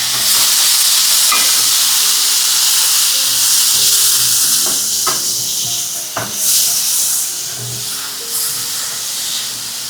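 Tomatoes for a pineapple curry with green chillies drop into a hot pan, a loud continuous hissing sizzle close by, broken by a few sharp stirring clicks and scrapes, with no voices.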